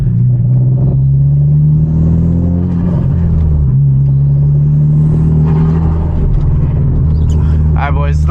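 A Hyundai Genesis Coupe with a misfire rumbles loudly from inside the cabin while driving, its engine drone wavering and stumbling unevenly, with people talking over it.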